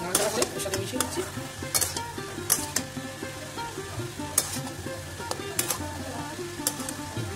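Grated cauliflower with ginger and spices sizzles steadily in a pan, while a spatula repeatedly scrapes and clinks against the metal as the mixture is stirred up close.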